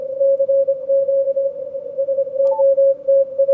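A single steady tone beeps in rapid on-off Morse code bursts from a low-power summit station, received on a Yaesu FTdx5000MP with a 50 hertz filter, clear and continuous over faint background noise.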